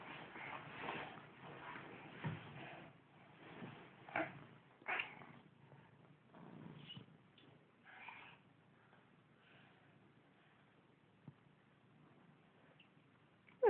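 A cat meows several times in soft, brief calls, close by but faint, set against a quiet, muffled background with a sharp click at the very end.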